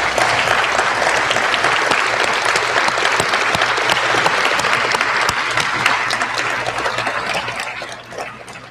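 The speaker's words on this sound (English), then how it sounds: "Would you please stand and give them a round of applause" Graduation audience at a WVU Tech commencement applauds faculty and staff, a dense, sustained roar of clapping from a large crowd that holds steady and tapers slightly near the end.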